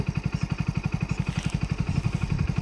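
A new motorcycle's engine putters nearby in a rapid, steady rhythmic beat, running continuously at a low idle-like pace.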